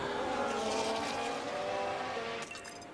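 Formula 1 race car engine in the F1 Manager 23 racing game, a steady high-pitched droning whine that holds loud, then drops and shifts tone near the end as the car slows into the pit lane.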